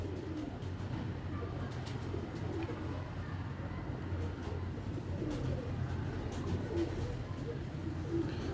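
A young pigeon, under a year old, cooing in a loft, soft and low within a dense, steady background of loft ambience.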